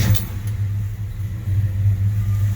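A Chevy C10 truck engine runs at a steady low idle, a close, continuous rumble with a faint hiss above it.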